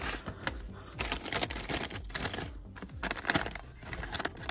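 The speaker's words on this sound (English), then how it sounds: "this is actually easier for you to fold down your tissue" Tissue paper is folded and creased down for a piñata craft, making a string of soft, dry crinkles and rustles in irregular bursts, close and faint.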